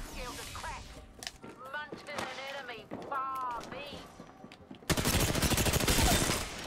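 Video game gunfire erupts as a loud, rapid automatic burst after someone talks excitedly, the shots rattling steadily and close for about two seconds at the end.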